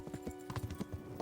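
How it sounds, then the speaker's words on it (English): Horse hooves clip-clop in the video game Kingdom Come: Deliverance, a quick irregular run of soft thuds drawing nearer, fairly quiet and alone. "there was a horse coming in"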